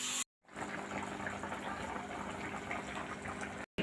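Water pours steadily into a pan of fried spiced vegetables, including kohlrabi, a soft continuous gushing and bubbling fill heard close and fairly quiet, starting after a brief gap and running unbroken.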